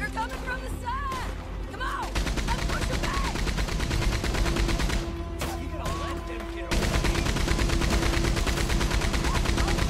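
Rapid gunfire from Red Dead Redemption 2 crackles in dense volleys through a shootout, shots near and far overlapping steadily, with players talking over the fight.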